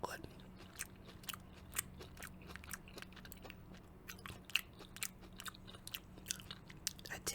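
Close, crunchy chewing of chicken and boiled kale dressed with olive oil, a steady run of short bites and mouth clicks throughout, with no talking.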